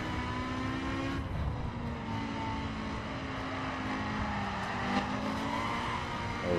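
BMW M4 driven in the racing video game The Crew, a steady engine drone with tires slipping and scrubbing out of corners, a continuous loud texture with rising and falling engine tones and no talking.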